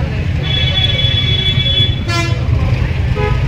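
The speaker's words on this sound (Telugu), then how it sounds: "ట్రాఫిక్ జామ్ చూసిరే ఎంతగానో ఉందో." Vehicles sit in a roadside traffic jam on the way to Araku valley near Vizag, with a heavy steady engine and road rumble. A long car horn blares, and shorter honks sound later.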